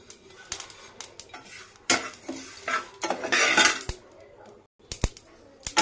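A utensil stirs fennel and kasuri methi in a metal pan, with close scraping and clinking strokes in uneven bursts separated by short pauses.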